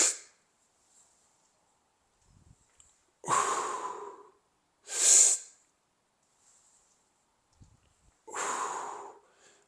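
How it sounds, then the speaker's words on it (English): Deep breaths during a barbell back squat set come as three or four distinct heavy inhales and exhales separated by silence, close and fairly loud, with faint movement sounds between them. "So it's a nice deep breath."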